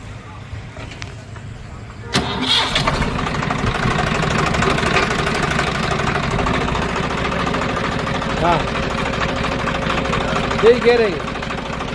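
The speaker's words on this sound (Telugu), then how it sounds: "గేర్ బాక్స్ కల్లా అక్కడ వస్తుంది శబ్దం" A Swaraj 744FE tractor with a rotavator attached, engine idling with the gearbox in neutral. It starts up about two seconds in and then settles into a steady, rumbling drone with a mechanical whine and rattle, heard close by.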